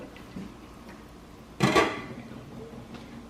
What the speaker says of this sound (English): now I am going to place all of this back in the slow cooker